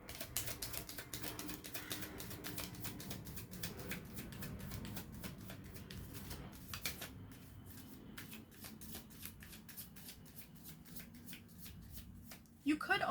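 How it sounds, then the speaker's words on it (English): Tarot cards slide and shuffle across a tabletop in soft, continuous rustling that runs the whole stretch and ends in a few sharper taps. A low voice murmurs underneath. "I'm just moving the cards up so I have more space."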